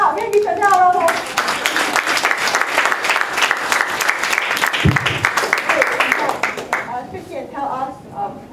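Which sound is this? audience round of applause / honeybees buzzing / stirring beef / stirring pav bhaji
audience round of applause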